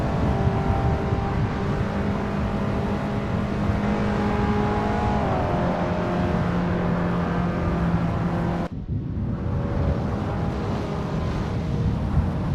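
A pack of Abarth 500 race cars in Assetto Corsa drones steadily at full throttle, close and loud, with engine tones shifting as they jostle for position, then a sudden cut to another engine note.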